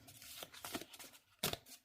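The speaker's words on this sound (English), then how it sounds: "I'm going to shuffle the majors" Large tarot cards, the major arcana, are shuffled up close: a few soft riffling and sliding bursts at irregular intervals, with one sharper, louder snap near the end and no talk.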